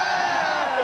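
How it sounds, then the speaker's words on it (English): Arena crowd roaring and yelling at the Apex Legends Global Series Year 2 Championship finals, a dense continuous wall of cheering voices held loud and steady throughout. "Wait, the crowd is yelling."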